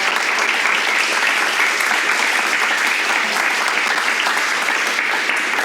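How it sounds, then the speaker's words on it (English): A round of applause from an audience at a community meeting, steady and dense clapping that fills the whole stretch at full volume with no break. "I've given a round of applause."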